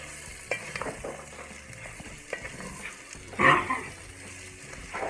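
Chopped cabbage, a whole small head, is stirred and cooked down in a soup pot with sausage, giving a soft sizzle with scraping stir strokes and one louder clatter near the end.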